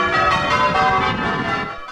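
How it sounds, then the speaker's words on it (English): Church bells of St John's Church in Bollington peal continuously and loudly together, a dense ringing overlapping tones sustained throughout before easing slightly at the end. "bringing to an end a centuries-old ritual of bells pealing out over Bollington"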